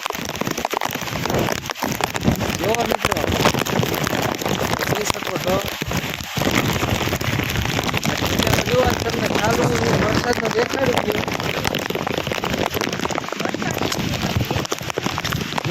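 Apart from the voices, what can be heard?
heavy rain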